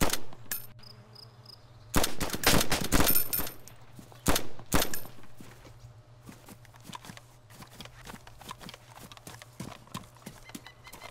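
Gunfire in the survival video game DayZ, with sharp bursts of loud shots in quick clusters and a few single cracks, set against a low steady hum and horse hoof clip-clop and whinnying.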